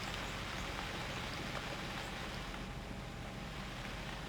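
Steady rain falling in the wilderness survival game UnReal World during an elk hunt, a dense unbroken hiss of drops with no voices.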